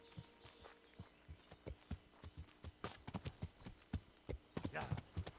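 Horse hooves clip-clop at a walking pace in the medieval video game Kingdom Come: Deliverance, a steady run of fairly close, distinct hoof strikes with a faint voice in places.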